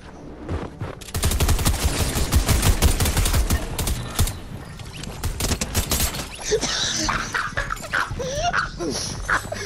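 Rapid bursts of gunfire from a Fortnite match, dense and loud from about a second in, with a dog barking and whimpering early on and sweeping electronic effects toward the end.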